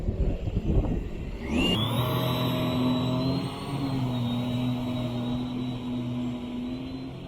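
A Sea-Doo jet ski engine is floored at full throttle, roaring loud and close with a sharp rising whine at the start that settles into a steady sustained drone with slight wavering.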